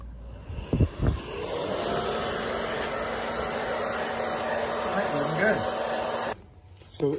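A heat gun blows a steady loud whooshing roar while heating an adhesive screen patch for a window screen hole, preceded by a couple of knocks and cut off abruptly near the end.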